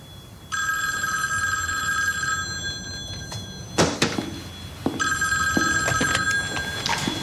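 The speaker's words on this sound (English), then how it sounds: "Is that a phone? I think so." An old landline telephone rings in a home, with two long, close, bright electronic bell bursts separated by a pause. Clunks and rustles fill the gap between the rings.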